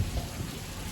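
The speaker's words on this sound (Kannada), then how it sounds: "ಹಂಗಾಗಿ ತುಂಬ ಮಳೆ ಬರ್ತಿದೆ" Heavy rain falling at a welding work site, a steady dense hiss of rainfall with low rumbling underneath, moderately loud and uninterrupted.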